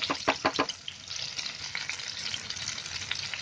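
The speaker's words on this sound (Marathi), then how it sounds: "मच्छी मस्त आता भाजायला आली आहे. खालून गॅस फास्ट केलाय." Pomfret fish frying in oil on a gas stove on high flame, a steady close sizzle and crackle with a few brisk stirring or scraping knocks at the start.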